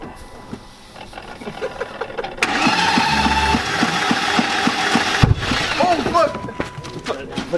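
A BMW E30 engine cranks on its starter after being fed starter fluid and E85, a steady mechanical churning with a rising rumble mid-way, mixed with voices talking over it nearby.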